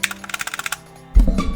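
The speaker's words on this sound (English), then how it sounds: "It's kind of a hollow sound though, and the stabilizers are really bad on the spacebar and on the shift key" Spacebar and shift key presses on a Bugha LED keyboard with poor stabilizers, giving a hollow sound: a quick run of about a dozen light, rhythmic clacks, followed by a deeper, heavier thump and rattle.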